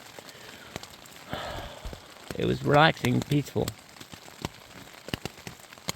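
Rain falls steadily on a tent during a multi-day hike near the Elk River, a soft continuous patter with scattered drops, while a person talks quietly partway through.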